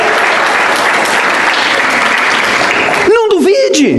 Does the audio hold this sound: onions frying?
no